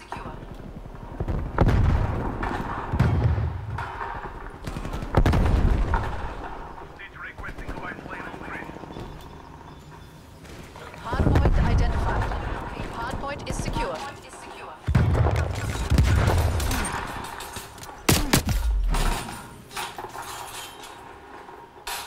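Gunfire and explosions from a Hardpoint round in Call of Duty: Black Ops Cold War, bursting loudly and repeatedly in chaotic clusters with brief lulls, with occasional talk over the action.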